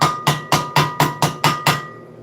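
A chipping hammer strikes welding flux off a fresh weld in eight sharp, evenly spaced metallic taps that ring briefly after each hit, close and loud, with no talk.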